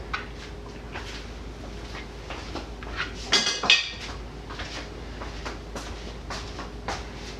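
Raw sausages are laid one by one onto a metal tray before grilling, making light clinks and taps at an irregular pace with one louder clatter partway through, close and with no voices.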